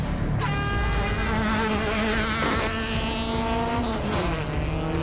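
An underpowered race car circuits a track, its engine droning in a buzzing, harmonic whine that climbs and dips as it shifts and accelerates, close and continuous throughout.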